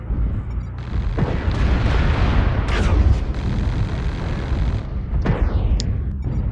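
Incoming missiles and explosions in the MechWarrior Online video game rumble and boom heavily and almost continuously, with whooshing impacts and a few sharper hits layered through the dense battle noise.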